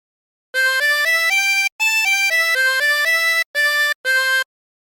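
Turkey in the Straw on a 24-hole tremolo harmonica: bright, reedy sustained notes in quick melodic steps, grouped into four phrases split by brief pauses, played solo and close.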